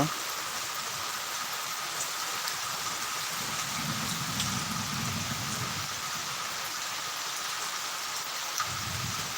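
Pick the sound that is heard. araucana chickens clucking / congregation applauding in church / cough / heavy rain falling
heavy rain falling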